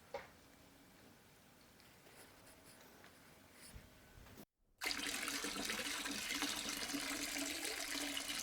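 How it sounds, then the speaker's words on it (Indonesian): Water poured from a can onto vegetable seedlings growing in compost, starting after a brief silence as a loud, steady splashing wash that continues to the end, preceded by quiet ambient background. "saya siram dulu"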